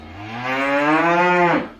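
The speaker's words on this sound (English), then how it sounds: "I'm Bella the cow. I love munching on fresh grass." A single cow moos once in a long, drawn-out call, loud and close, rising in strength and then cutting off cleanly, with no other sounds around it.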